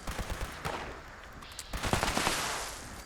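Rapid laser rifle fire in the video game Fallout 76, a burst of quick crackling shots in two clusters, fairly loud and close with no talking.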